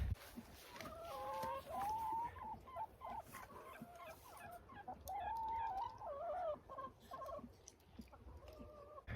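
Backyard chickens cluck and call repeatedly in a flowing series of warbling notes, moderately near, over a quiet outdoor background with no talk.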